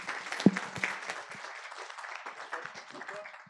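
An audience applauds a doctor after a conference lecture on X-ray fluorescence applications, a moderate spatter of clapping that stays fairly quiet and thins out over a few seconds, with some faint voices mixed in.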